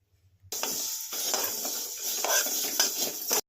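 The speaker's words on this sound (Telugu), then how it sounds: "స్టవ్ పై బాండ్లీ పెట్టి బాండ్లీలో మెంతులను వేయించుకోవాలి" Fenugreek seeds tossed and stirred in a hot pan on a stove give a steady, close dry rattle and scrape with a faint hiss, starting abruptly and running continuously for a few seconds.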